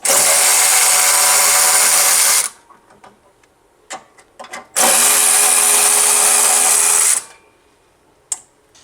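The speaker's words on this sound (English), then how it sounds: "I'm using this electric ratchet, and I'm gonna go ahead and remove them." An electric ratchet removes the hood latch bolts on a Honda Odyssey, two long loud whirring runs of about two and a half seconds each, separated by quiet clicks and handling noises, with a short tap near the end.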